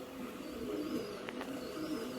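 Pigeons in a loft of old Madras pigeons coo softly and low, a faint continuous murmur of cooing with a couple of brief higher chirps from nearby birds.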